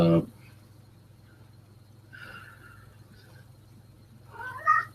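A cat meows nearby: one meow at the start, a softer one midway and a louder, drawn-out call at the end, over a low steady background hum.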